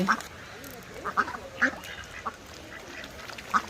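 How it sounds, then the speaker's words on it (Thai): A flock of ducks at a zoo in Austria, with a pair of swans among them, quacks in short repeated bursts at moderate distance over a steady outdoor background hum. "หงสองตัวท่ามกลางฝูงเป็ด เป็ดเยอะมาก"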